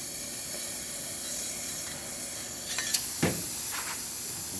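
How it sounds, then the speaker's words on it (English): A La Pavoni espresso machine, freshly serviced with new gaskets, releases steam as a steady hiss with a couple of louder spurts and sputters near the end, nearby and without talk. "Some nice steam coming out."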